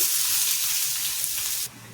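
Onions and green chillies sizzle loudly in hot oil with a steady, bright hiss that suddenly drops to a quieter crackle near the end.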